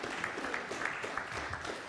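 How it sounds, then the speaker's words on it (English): Steady audience applause at a mobility and bike city forum in Copenhagen, a continuous patter of many hands at moderate volume from start to finish. "let's give him a big hand of applause"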